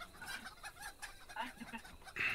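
Chickens in the video game Ale and Tale cluck in quick, uneven bursts, soft and close, ending in a sharper, louder squawk.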